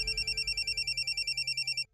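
A telephone rings with a rapid, trilling electronic bell pulse, loud and steady for nearly two seconds before cutting off abruptly.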